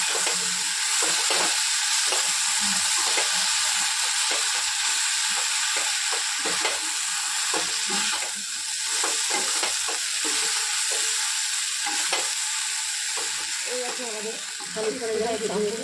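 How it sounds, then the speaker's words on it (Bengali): Chicken pieces for chicken 65 being stirred and tossed with spices in a hot pan, a steady close sizzle with repeated scraping strokes throughout, loud and continuous. "চিকেনগুলো দিয়ে দেবে এগুলো একটা ভালো করে মিশিয়ে নেব যাতে সব মশলাগুলো ঢুকে যায়"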